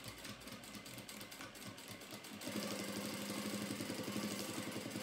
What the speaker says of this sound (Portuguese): Pela manta, pelo lado de trás da manta, eu vou passar essa costurinha.